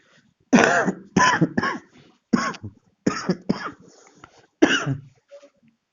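Someone coughs and clears their throat in a string of harsh, close bursts separated by short pauses, with no talking.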